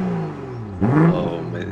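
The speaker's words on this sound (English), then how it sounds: "Roger, would you like me to fire it up so you can hear how it sounds?" A BMW M340i xDrive Touring, nearly 400 horsepower, fires up and revs, a loud close burst of engine rising sharply after a quieter idle hum.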